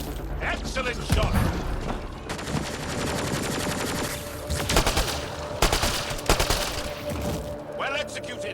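Rapid gunfire bursts in the shooter game Mass Effect: Andromeda, busy mechanical weapon clatter with sharp shots near 1, 5 and 6 seconds, loud and continuous over a game soundscape with voices.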